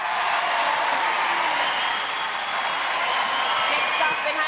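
An arena audience claps and cheers for the gladiator Vogue at a 1995 Gladiators televised event, a loud sustained wash of applause with a voice talking over it.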